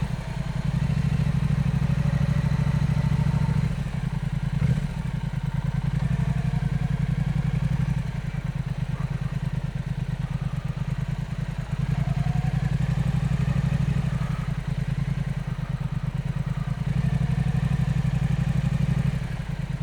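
A Triumph Speed Twin motorcycle is ridden along a road with its engine running steadily, producing a loud, continuous low rumble with little variation for about twenty seconds and no talking.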